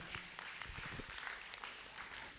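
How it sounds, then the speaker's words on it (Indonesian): Faint applause for everyone at a PSHT branch formateur meeting in Tangerang, a low, distant patter of clapping hands that continues evenly for a couple of seconds without speech. "Tepuk tangan untuk semuanya"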